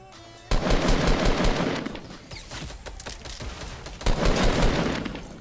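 Bursts of automatic gunfire in the video game Fortnite, a loud rapid volley opening the stretch, a quieter spell of scattered shots in the middle, then another heavy burst near the end, with no talking.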